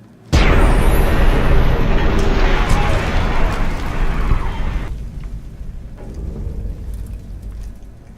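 A plasma grenade goes off in Fallout: New Vegas with a sudden loud blast, followed by a long roaring, crackling wash that slowly fades and then drops to a lower rumble.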